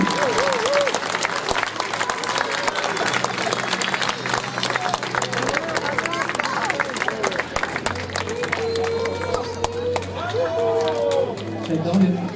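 Audience applause at a costume podium event in Chanaz, steady clapping and crowd noise throughout while a presenter keeps talking over it.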